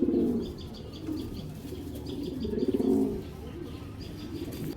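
A breeder pigeon kept at home coos in low rolling bursts near the listener, two swelling phrases with softer chirps from other birds and a faint flutter around them.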